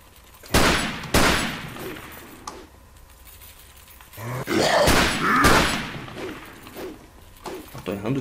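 Gunshots from the video game Resident Evil 4 with a Life in Hell mod ring out in a few sharp, loud cracks spaced apart, followed by a longer burst of rapid fire and clattering impacts.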